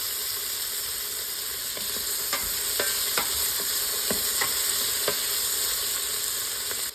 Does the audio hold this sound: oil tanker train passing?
no